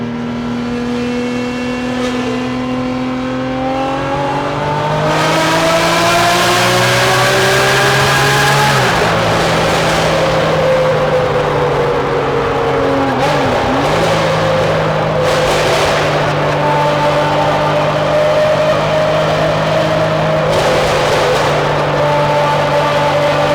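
Ferrari F50 V12 revving hard through a Capristo exhaust, loud and close, with rising and falling sweeps, sharp blips and crackling overrun, with no voices.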